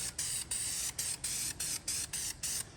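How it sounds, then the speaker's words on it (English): An aerosol can sprays black paint onto an engine part in about nine short, even hissing bursts separated by brief gaps, close and fairly quiet. "Now I'm just giving it a fresh coat of black paint."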